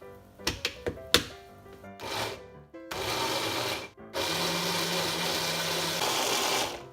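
A kitchen blender pureeing baby food starts with a few sharp knocks and clunks, then runs in loud sustained whirring bursts separated by short pauses, close by with no talking.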